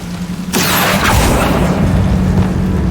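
An Accio summoning spell cast in Hogwarts Legacy: a sudden loud whooshing burst that swells into a rumbling magical surge and holds strong for a few seconds, with no talk.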